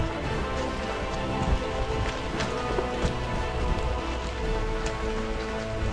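Steady heavy rain pours down during a storm in Galicia, a dense continuous patter on surfaces with scattered louder drops, close and loud, no voices.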